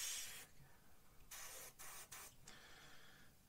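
A Gaahleri GHAC 98D airbrush sprays paint in close, soft hissing bursts that start and stop, with short pauses between each puff.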